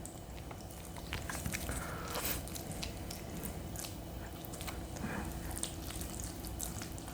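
Soft, wet chewing and biting of Korean raw beef yukhoe, seasoned at home and served with egg yolk, in a close-up mukbang. The sounds are quiet and intermittent, with small squishy smacks and no talking.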